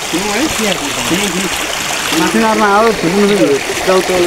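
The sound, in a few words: flowing stream water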